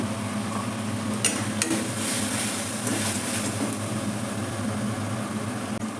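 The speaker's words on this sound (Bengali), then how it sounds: "এবার দিয়ে দেবো আন্দাজ মতো নুন আর হলুদ দিয়ে আমি আর একটু কষে নেব" Spices with salt and turmeric frying for a young jackfruit curry with yogurt, a steady close sizzle with intermittent scraping and stirring clinks from the pan, continuous throughout.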